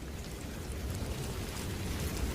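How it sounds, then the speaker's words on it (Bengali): Light drizzle falls as a soft, even patter, a continuous hiss with no talking. "চারিপাশে টিপ টিপ বৃষ্টি হচ্ছে"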